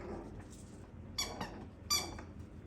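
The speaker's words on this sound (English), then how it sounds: "She likes that squeaky toy." A squeaky dog toy is squeezed by a Schnoodle puppy, giving two short, bright squeaks about a second apart with a fainter chirp earlier, set against quiet room noise.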